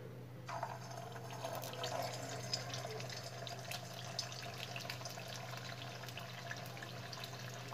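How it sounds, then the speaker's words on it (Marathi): Sabudana vadas fry in hot oil over medium gas, giving a steady close sizzle with scattered small crackles and pops and no talking. "आता आपण हे सर्व तळून घेऊया. तेल आपलं छानपैकी गरम झालेलं आहे. आता आपण ह्यामध्ये आपले वडे सोडूया."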